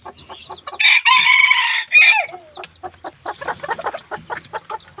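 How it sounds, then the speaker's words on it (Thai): Newly hatched chicks peep in a quick, uneven series of short calls. A louder adult chicken clucks and crows near the start, all heard close and with no talk. "ตอนนี้ลูกเจ้านำโชคออกแล้วนะครับ เดี๋ยวผมจะพาไปดูนะครับ ได้ยินเสียงไหมครับ"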